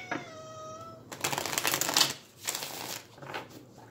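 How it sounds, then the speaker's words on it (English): A short meow-like tone, then a quick riffle of oracle cards being shuffled in a few brisk bursts, close and fairly quiet. "I'm going to do a quick shuffle here."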